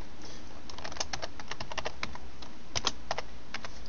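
Keys tapped on a computer keyboard while entering a master password, a quick uneven run of crisp clicks close up with short pauses, heard alone without talk.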